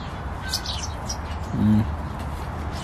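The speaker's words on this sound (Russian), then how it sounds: "Ну и воробьи там, конечно." Sparrows chirp in short, bright bursts in a park on Yelagin Island in November, scattered against a low outdoor background hum.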